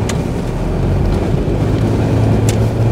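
Mitsubishi 4M40 diesel car engine running with turbo boost, a steady loud low drone with a faint whistle over it, constant and alone.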